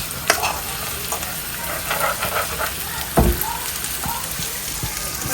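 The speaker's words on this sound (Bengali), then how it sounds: "ফ্রাই পেঁয়াজ ফ্রাই মাছ" Onions and fish fry in a pan with a continuous crackling sizzle like light rain, while a spoon stirs and taps the pan now and then, including one louder knock partway through.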